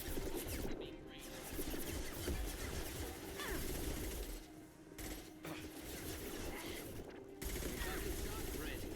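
Rapid bursts of automatic gunfire from the video game Mass Effect 2 rattle steadily through most of the stretch, dense and loud, with brief lulls and voices talking over the combat.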